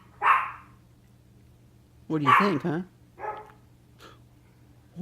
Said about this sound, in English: Oh, that's a dog, huh?